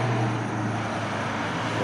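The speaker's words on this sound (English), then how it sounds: "Oh, here's a car, finally." A single car passes on a road, a steady broadband rumble and hiss that stays even and fairly close throughout, with no voices.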